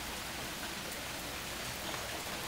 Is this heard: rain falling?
yes